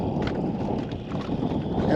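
Wind gusting across a lake during a fishing trip on hydrilla-filled water, a low, steady rumble buffeting the microphone that swells toward the end, with a voice present.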